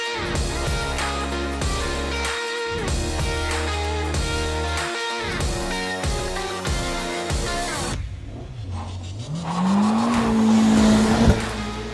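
A Honda Civic Type R laps a race circuit. A loud rhythmic stretch gives way near the end to an engine note climbing in pitch as the tires squeal, close and strong.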